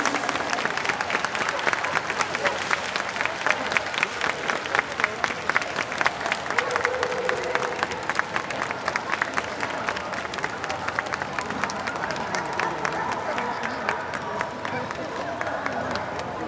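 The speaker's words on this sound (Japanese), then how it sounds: "惜しくも先制でなかった代表権の皆様に大きな拍手をお願い" Sustained audience applause at a dog show, many hands clapping in a dense, steady patter that fills the whole stretch, with faint crowd murmur underneath.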